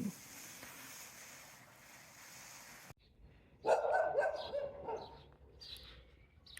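In a home garden, a dog lets out a short burst of barks that stands out loudly against a soft, windy outdoor background.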